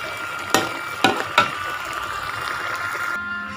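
A pot of fresh eel curry boils hard, with steady bubbling and sizzling and a few louder pops and splashes near the start, close and continuous.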